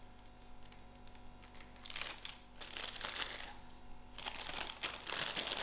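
A Ziploc bag holding Simba Zinger wings flavor chips is handled and crinkled close by. Soft rustling builds into louder crackling bursts with a faint hum underneath and no one talking.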